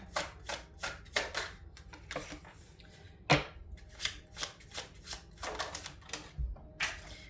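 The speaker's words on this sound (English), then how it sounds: "I'm just gonna lay down some cards, guys." Tarot cards being laid down on a table, heard as a quick series of crisp slaps and flicks in an uneven rhythm, fairly close and soft.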